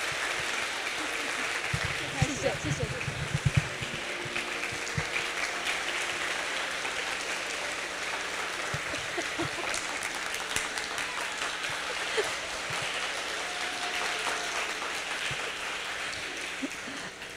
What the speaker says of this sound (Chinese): 再次热烈掌声。